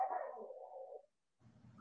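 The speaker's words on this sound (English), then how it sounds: "Whose dog was that?" A dog barks indoors in the background of a sports talk studio show, one drawn-out bark-whine followed by a short fainter yelp after a brief gap, with no speech over it.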